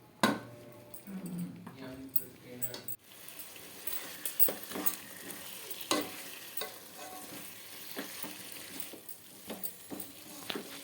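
Turmeric, chilli, coriander, cumin and Kashmiri red chilli powders sizzle in oil for khichdi, with a spoon scraping and stirring the pan in repeated clatters, close and moderately quiet.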